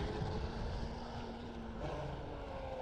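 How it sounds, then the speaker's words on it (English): A SonicWake motorboat runs at full throttle while getting up on plane, its engine and propeller giving a loud, steady roar with a rising tonal whine as the prop pitch shifts. "getting up on plane, you'll just hear the pitch of the prop change, and that means you're out of cavitation, and then you've got full throttle."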